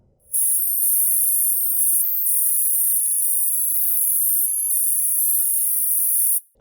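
Harsh digital static from a Doki Doki Literature Club character file converted to audio, a steady, loud hiss with flickering high tones that cuts in and stops abruptly.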